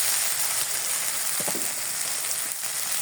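Spice paste sizzling steadily in a pan for chicken biryani, with green chillies and onion paste, a continuous close frying hiss with a few faint stirring scrapes.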